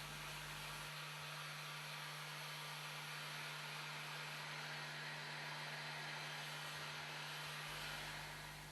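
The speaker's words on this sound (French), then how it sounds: "Laissez sécher ou sécher au décapeur thermique." A heat gun dries freshly dyed leather with a loud, steady blowing roar that runs unbroken, near and constant, with no voices.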